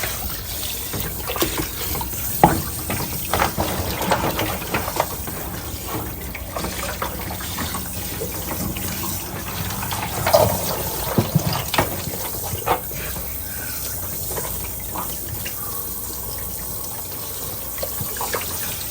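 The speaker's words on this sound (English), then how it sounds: "the splashing of the water from the turkey or the poultry is going to get on the sink" Running tap water splashes steadily as a turkey is rinsed in a kitchen sink, with a continuous close-up trickle and gush that rises briefly around the middle and carries on alone without talk.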